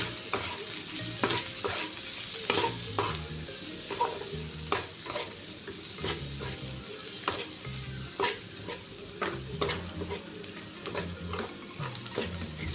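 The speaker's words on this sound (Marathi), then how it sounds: "घरगुती काळं तिखट चवीनुसार कांदवणी हे तिखटच छान लागतं थोडंसं त्याच्यामुळे थोडासा वापर जास्त केलेला आहे आणि हळद तर हे मसाले आपण परतून घेऊया" Homemade black chili powder and turmeric sautéed in a pan for an onion kandawani, with a steady sizzle and a regular series of sharp scraping stir strokes, close and moderately quiet, no voices.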